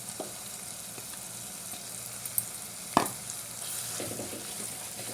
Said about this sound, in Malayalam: എന്നിട്ട് ഇതൊന്ന് വാട്ടി കൊടുക്കാം.